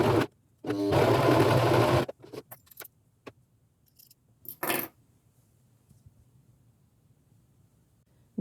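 Sewing machine stitching fabric pieces of a baby bonnet, a loud rapid burst of whirring stitches, then scattered clicks and handling noises before a second short stitching burst, followed by near silence.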